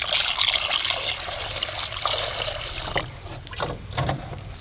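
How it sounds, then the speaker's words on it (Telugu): Cold water poured over freshly boiled eggs in a pot after the hot water is drained, a steady close splashing stream that eases off midway into lighter trickles and splashes. "చల్లనీళ్ళు పోసుకోవాలి."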